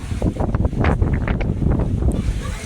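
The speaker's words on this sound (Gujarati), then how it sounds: "પવન કેવો ઉડે જોરદાર" Strong wind buffets the microphone in loud, continuous gusts ahead of summer rain, a dense rumbling roar with no other clear sound over it.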